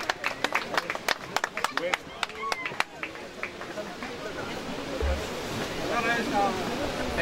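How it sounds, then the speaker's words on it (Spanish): An outdoor crowd at a 2016 fishing tournament on the Rio Tenaxate in Zacapoaxtla gives sharp, scattered claps for the third-place angler; the clapping fades after a few seconds into the steady rush of the river and faint background talk. "vamos a brindarle un fuerte aplauso, por favor, a nuestro amigo pescador"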